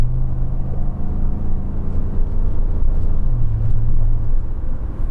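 A Ford F-150 truck pulling at full throttle, a loud, steady low engine drone with a faint hum that rises slightly in pitch toward the end, with no talking.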